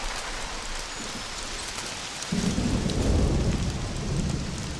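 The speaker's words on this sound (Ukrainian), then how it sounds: "Атмосферно виглядає ніч, дощ." Steady, heavy rain pours down at night in the video game Mafia: The City of Lost Heaven, and a deep thunder-like rumble swells in about halfway through and stays.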